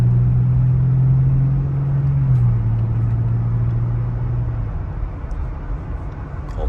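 Steady engine drone of a Jeep Gladiator fitted with an S&B cold air intake, heard from inside the cab with the windows up; a loud, continuous low hum whose pitch holds, then drops slightly midway.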